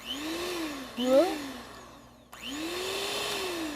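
Electric hand mixer whirring through blueberry cream cheese pound cake batter, its motor pitch rising and dipping as the beaters work, with a short pause midway before the steady whine resumes.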